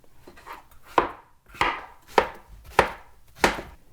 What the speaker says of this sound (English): we can simply cut it up into chunks